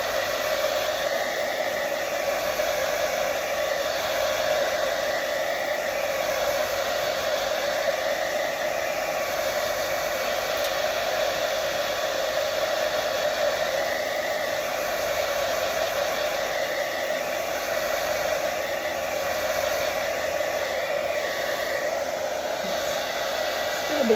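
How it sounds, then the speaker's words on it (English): Hair dryer blows steadily at close range to dry paint on a gel plate, a constant breathy whoosh with an even hum for the whole stretch. "I'm just going to dry that a little bit more."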